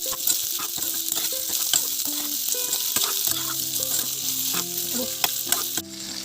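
Pork with sliced elephant apple (ou tenga) frying in its own rendered fat in a pan, a loud continuous sizzle with scattered crackles and pops and occasional utensil clinks.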